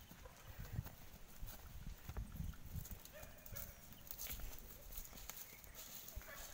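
Hooves of a ridden horse clip-clop in an uneven walking rhythm on the ground, close by, with voices talking faintly around it.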